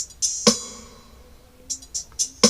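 Worship drum pattern variation B from a PSR-E463 keyboard, a short sparse groove of a few sharp hi-hat ticks and two punchy kick-snare hits, clean and isolated.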